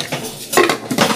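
Pots and metal utensils clink and scrape as shrimp and crab go in to cook for a crab-in-sauce dish, in a few close, sharp knocks and rattles.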